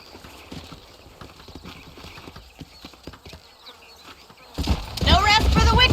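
Horse hooves clip-clop steadily and close in the video game Red Dead Redemption, a run of crisp rhythmic strikes, joined near the end by a louder burst of game sound.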